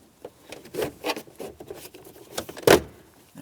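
A plastic trim panel is carefully pried up and pulled away from the dash of a 2007-2014 GMC Sierra 2500 HD, giving a series of close, scattered scrapes and creaks that end in one sharp, loud snap as the clips release.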